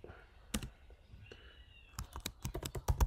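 Clicky computer keyboard typing, close and fairly quiet: a lone tap, then a quick run of keystrokes with irregular rhythm, no talking.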